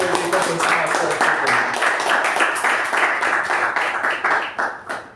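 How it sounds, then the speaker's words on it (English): A meeting audience gives a round of applause for a debutant speaker, with close, distinct claps in a lively rhythm that thin out and fade near the end. "Can we have a huge round of applause for the debutant"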